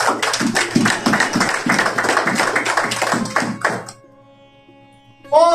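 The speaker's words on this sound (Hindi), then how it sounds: "यीशु के लिए जोरदार तालियां।" A church congregation at a Hindi-Urdu sermon gives loud, rhythmic applause in quick, even beats for several seconds. The clapping then stops and leaves a quiet sustained tone, followed by a brief swell of sound at the end.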